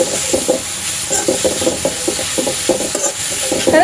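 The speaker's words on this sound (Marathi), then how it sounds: "आता आपल्याला यामध्ये ही जी चिरलेली मेथी आहे ही घालायची आहे आपण मेथी छान परतवून घेऊया" Chopped fenugreek leaves being sautéed in a pan, with soft rhythmic scraping and rubbing strokes of the spatula over a gentle sizzle, close and continuous without speech.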